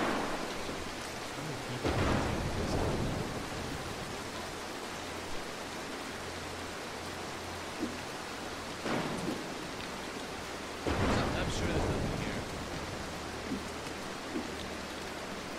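Thunder rumbles and rolls through a steady rain in the Mark of the Ninja game, with two heavy crashes breaking over the hiss of the downpour; no one speaks.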